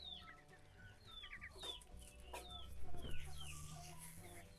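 Ducks cluck and chatter softly nearby, with scattered chirps and calls over a faint farmyard background.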